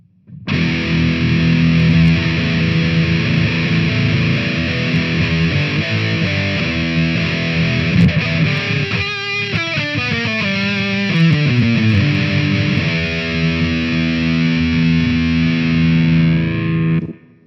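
Heavily distorted electric guitar through a Line 6 Flextone II amp with drive at maximum, loud and saturated, playing sustained chords with a few quick descending note runs in the middle.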